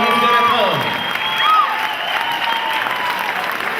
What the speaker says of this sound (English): Keep clapping, keep clapping. The louder you clap